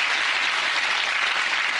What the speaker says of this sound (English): Give her a big round of applause, ladies and gentlemen.